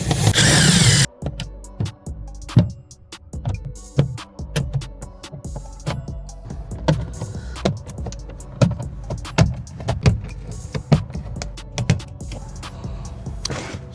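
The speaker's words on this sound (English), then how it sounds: "we can now move to removing the 2 screws, the T30 screws" T30 screws are worked out of the top edge of a 2011–2018 Porsche Cayenne door panel during a lock actuator replacement: a short whirring burst, then a steady run of close, sharp tool clicks, metallic ticks and light rattles.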